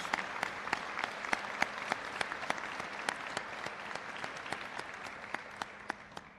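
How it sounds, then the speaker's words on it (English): A seated audience at a high school scholarship and awards night claps steadily for the presenters, a dense, even round of applause with sharp individual claps popping out, heard alone without any voices. "So I'd really like to give a round of applause to the presenters that you see here tonight."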